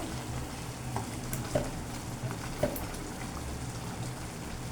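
Hog plum pickle sizzles quietly in oil while being stirred, giving a steady fine crackle broken by a few soft scrapes of the spoon in the pan.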